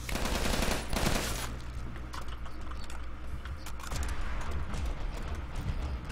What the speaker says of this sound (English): Why does it shoot a fucking laser?